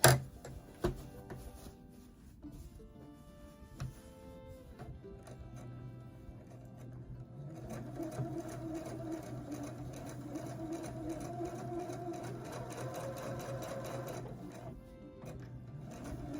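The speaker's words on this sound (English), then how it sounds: "So I'm just sewing the ridges in the flower." A Husqvarna Viking embroidery machine stitches the ridges of a flower design, its steady mechanical whir running continuously up close, with a rhythmic needle drive that grows a little louder partway through.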